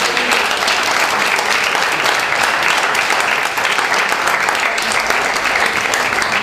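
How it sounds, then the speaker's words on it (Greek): Audience at a discussion event on managing autoimmune conditions gives a sustained round of applause, many hands clapping in a dense, loud, even wash that continues throughout. "Θα τη δώσουμε ένα χειροκρότημα έτσι."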